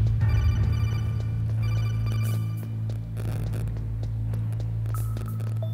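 A phone call rings in the Metal Gear Solid video game, a steady electronic tone pattern repeating over a low humming drone, with no voices.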